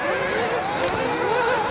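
A small RC racing car lapping the track at the IFMAR Worlds, its high-pitched electric-motor whine steady and fairly loud, rising and falling slightly in pitch as it works through a section of the course.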